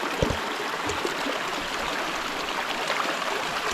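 River water flows steadily nearby in a continuous burbling rush, close and fairly loud, with no voices over it.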